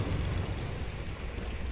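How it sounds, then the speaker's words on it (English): A propeller airplane in a video game drones as a steady, fairly loud engine hum throughout the short moment, with no talk over it. "there's an airplane down here, so might as well get that"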